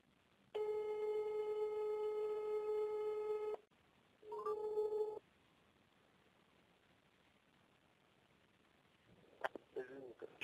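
Telephone busy tone after a dropped call, a loud steady beep lasting about three seconds, a pause, then a shorter beep, followed by near silence and faint rustling.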